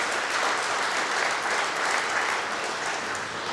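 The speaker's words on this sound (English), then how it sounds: "And yeah, go ahead and clap." An audience applauds at a casino and hotel expansion ribbon-cutting ceremony in Oklahoma, producing a full, even roar of clapping that stays loud and steady before tapering slightly at the end.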